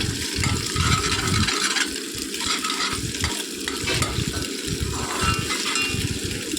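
Noodles being stirred and fried in a pan, with a steady sizzle and repeated scraping and clinking of the utensil against the metal, close and loud with no talk.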